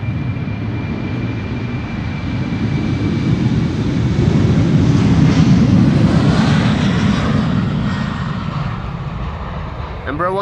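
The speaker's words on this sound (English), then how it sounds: "Embraer 190 not very heavy, already rotating much more sooner than other airplanes normally rotate." An Embraer 190 jet takes off at Amsterdam Schiphol, a loud, close engine roar that builds to a peak around the middle and then slowly fades, with faint talk near the end.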